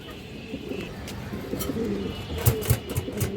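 Fancy pigeons, including high flyer and satin breeds, give a few low, soft coos close by over faint background noise, with no speech.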